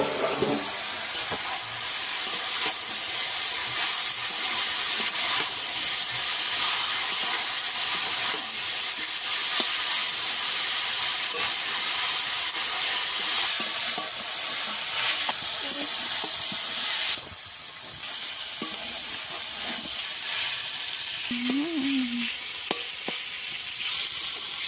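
Snake gourd with coconut frying in a covered pan, a long steady sizzle and steam hiss with occasional stirring scrapes, close and continuous, no talk.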